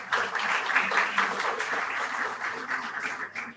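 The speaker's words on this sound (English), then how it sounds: "I request everyone to respond with a huge round of applause" Orientation-session audience at a student developer club event breaking into a brief round of applause, a dense wash of clapping that rises quickly and holds steady before trailing off.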